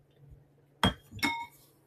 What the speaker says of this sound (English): a beautiful stained glass angel with a little bell and some bobbly wings